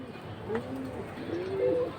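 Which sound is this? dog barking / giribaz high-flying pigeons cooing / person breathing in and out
giribaz high-flying pigeons cooing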